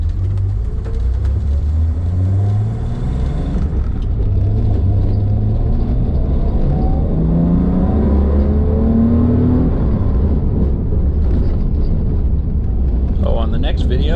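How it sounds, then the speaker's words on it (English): A Datsun 240Z's freshly assembled carbureted engine runs loud and close, with a steady low rumble and rising, falling rev sweeps throughout, and someone speaks over it briefly. "Car's running good."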